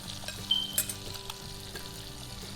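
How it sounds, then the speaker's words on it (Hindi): Mutton sizzles steadily as it fries in melted butter with salt for a namkeen gosht dish, a continuous close crackle with a few light clinks of a utensil and no talking. "मैं डालूँगी आपका मटन, ताकि ये इसमें थोड़ा सा फ्राई हो जाए"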